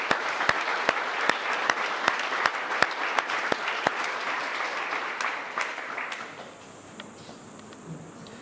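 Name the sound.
audience round of applause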